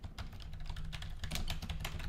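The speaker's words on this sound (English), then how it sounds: "I'm typing in the options here." Steady computer keyboard typing fills the whole stretch with dense, rapid key clicks at close range, unbroken by any voice.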